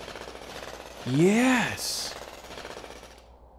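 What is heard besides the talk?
mining drill running on big rock, MewnBase video game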